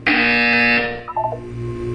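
Loud, steady electronic buzzer from the Portal 2 video game, a single harsh tone lasting under a second before cutting off, followed by quieter tonal game sounds.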